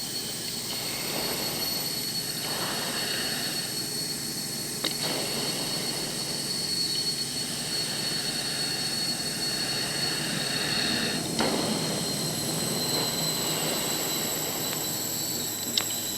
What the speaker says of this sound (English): RPM's coming up, crew chief's out, cranking number 1, start, throttle up